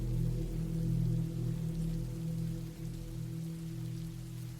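Steady rain falls on a surface in a woodland camping setting, a continuous, even wash of patter with low rumbling undertones, close and moderately loud, no voices.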